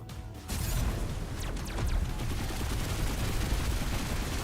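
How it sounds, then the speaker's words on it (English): A black cannon fires in the Star Control space combat game, heard as dense, continuous, rapid booming fire that fills the whole stretch at a steady, loud level. "Black cannon's not doing a lot of damage, but it is hurting."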